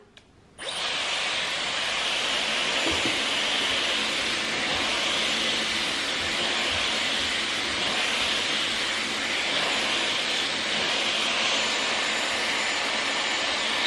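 A Dyson hair dryer blows loudly and steadily while drying hair, starting abruptly after a brief quiet moment and holding an even rushing airflow whine to the end.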